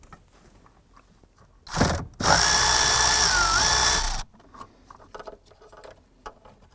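A powered socket driver with an 8 mm socket spins a bolt on the steering column of a 1993–1997 Ford Ranger: one short burst, then a loud two-second whirring run, followed by faint clicks and handling noises.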